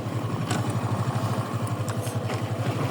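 Motorcycle engine running on a ride through a village, a close, steady rhythmic putter at light throttle with slight rises in revs, no voices.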